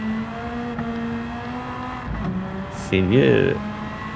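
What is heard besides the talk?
race car engine accelerating in video game Gran Turismo 7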